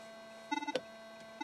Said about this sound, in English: this machine, or this phone will be searching for a signal on and off constantly